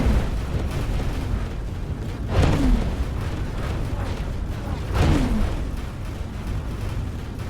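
Ship weapons in a space video game pounding a space station, a continuous heavy rumble punctuated by two loud booming blasts with descending whooshes, several seconds apart.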